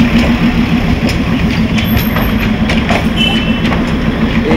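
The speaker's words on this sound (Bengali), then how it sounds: "এই আমাদের ইঞ্জিনটা আসছে, এই ইঞ্জিনটাই ব্যাক করে আমাদের ট্রেনের সঙ্গে এবারে লাগবে।" A Darjeeling Himalayan Railway toy train engine approaches and backs up in Darjeeling, giving a steady, loud low rumble and engine drone with faint rail clatter throughout, and no talking.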